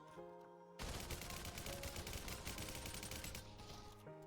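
Rapid automatic gunfire from strafing and shooting in a video game training park erupts after a quiet tonal lead-in and rattles on in one loud, dense burst for about two and a half seconds before cutting off.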